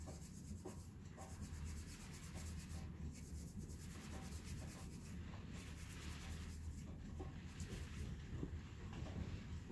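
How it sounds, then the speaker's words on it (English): Super smooth wire wool scrubbing etched metal in steady, continuous rubbing strokes, faint and close, with no talking. "I'm just going to take my super smooth wire wool again,"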